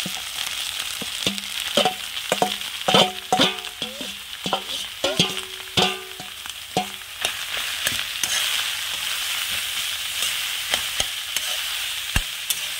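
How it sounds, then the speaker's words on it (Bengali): Green chili spice paste sautéing in a pan before mushrooms go in, a constant sizzle broken by repeated clanking scrapes of a spatula, heavier in the first half, then mostly steady frying. "ভালো করে কিন্তু আমি কষিয়ে নিয়েছি, এবারে মাশরুমটা দিয়ে দেবো"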